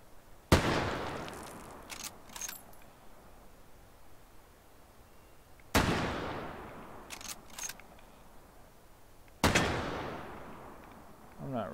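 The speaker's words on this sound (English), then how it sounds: "But let's shoot these little cans here." Three loud, sharp gunshots in a VR shooting game, fired at small cans, each a sudden crack with a decaying tail, spaced several seconds apart, plus a few faint mechanical clicks between.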